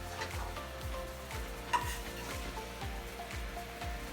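Shrimp in a brandied cream sauce simmering in a pan, a soft steady bubbling sizzle under a regular rhythmic stirring scrape, with one small clink partway through.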